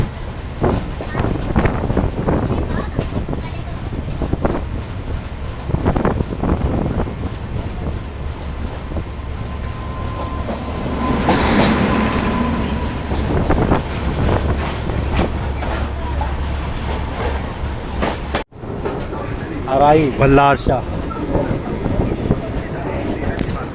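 Andhra Pradesh Express on the Visakhapatnam to New Delhi run, a steady loud rumble of wheels and carriage with wind buffeting the microphone, a brief dropout near the end, and people talking over it at times.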